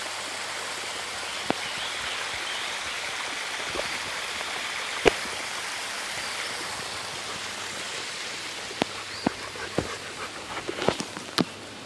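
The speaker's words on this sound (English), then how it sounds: "This is part of Cold Spring Creek as it makes its way down to the river valley" Cold Spring Creek flows in a steady, close hiss of running water, with a few sharp clicks and knocks scattered near the end and no voices.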